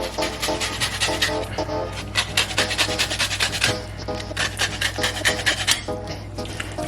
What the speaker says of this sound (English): Now you just simply grate half a lemon zest.